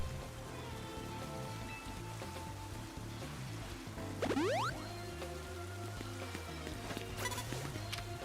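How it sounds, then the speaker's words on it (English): Steady in-game rain patters throughout during a Pokemon Legends Z-A battle, a soft continuous wash with game music and a brief rising sweep of effects partway through. "Don't you just love the rain?"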